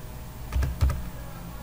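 Keys on a computer keyboard tap out a password in two quick clusters of clicks, close and fairly soft, with no voices over them.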